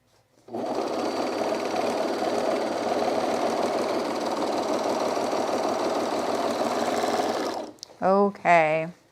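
A sewing machine runs close and steady for about seven seconds, a fast even mechanical chatter while stitching overalls, then stops and a voice speaks briefly.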